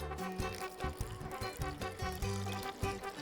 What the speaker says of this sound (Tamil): இதில் தண்ணி ஆட் பண்ணணும்.